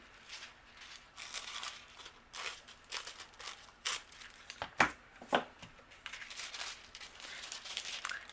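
A sheet of matte gold foil being handled and trimmed for cardmaking, with soft crinkles, rustles and a couple of sharper snips, quiet and close with brief pauses.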